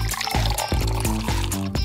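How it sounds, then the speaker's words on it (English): Water is poured into a container for a kids' science experiment, a close, continuous splashing pour with gurgling pulses. "And now we're gonna add water."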